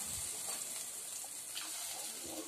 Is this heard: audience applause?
no